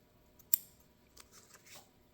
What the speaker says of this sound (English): get my fabric scissors and cut that off.